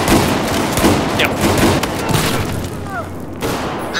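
Shotgun fire in the video game Battlefield 4 during a Rush match, repeated booming blasts over continuous loud battle noise with other gunfire mixed in throughout.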